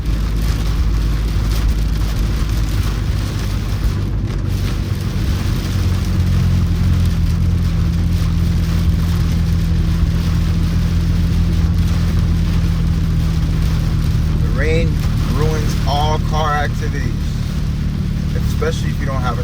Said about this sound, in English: Rain is coming down like crazy right now.